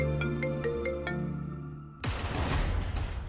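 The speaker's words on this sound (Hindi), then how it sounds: "जरा देख किसका फोन है" A phone ringtone in a Hindi TV drama scene plays a series of evenly spaced electronic tones for about two seconds, then gives way to a loud, dense, noisy burst.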